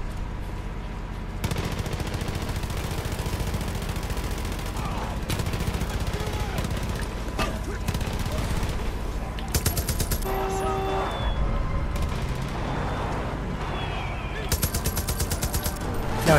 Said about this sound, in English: Yeah, they're shooting at someone.